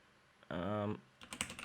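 Clicky keys on a computer keyboard are tapped in a short burst, close and fairly faint, after a brief spoken phrase.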